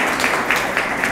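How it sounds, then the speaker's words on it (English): Applause from the crowd at a mayors' luncheon roundtable, a brief continuous wash of many hands clapping, moderately loud with a few sharper claps standing out. "And for everyone who's clapping"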